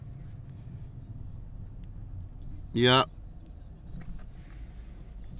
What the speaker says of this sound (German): Porsche Carrera Cabrio.